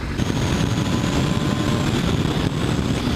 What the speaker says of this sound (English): All I can hear is wind.